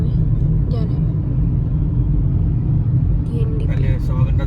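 A car moves through heavy traffic on DND road with a constant low cabin rumble, and voices briefly speak over it near the end.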